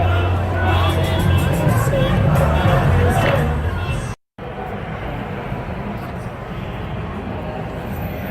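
Loud, dense hubbub of a large protest crowd filling a city street in Portland, June 2020, steady chatter and distant voices throughout with a brief cut to silence midway.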